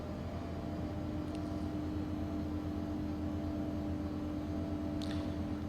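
The twin jet engines of an ERJ regional jet in the X-Plane 12 flight simulator hold a steady, even whine and roar with no clear change in pitch. Two faint short clicks sound over it, and no one speaks.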